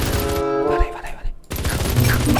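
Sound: gunfire from a gun in a video game

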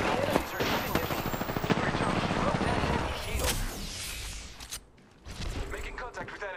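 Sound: enemy gunfire in the video game Apex Legends

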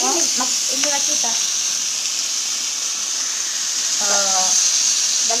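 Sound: frying danggit fish (dried rabbitfish) in a pan

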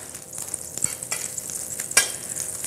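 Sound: butter sizzling in a HealthCraft skillet

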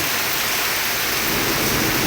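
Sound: heavy rain falling

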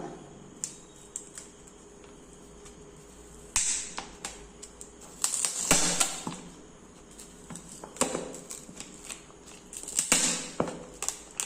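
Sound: peeling sticker off a frozen plastic bottle

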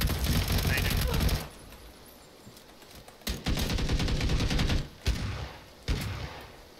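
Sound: gunfire from a shotgun in the video game PUBG

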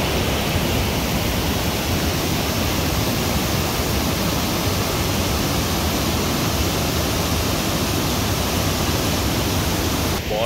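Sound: huge waterfall in Italy near Domodossola

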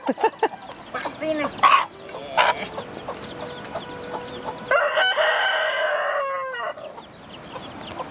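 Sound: chickens

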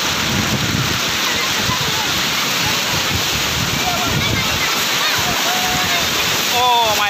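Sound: strong sea waves at Sea View beach, Karachi

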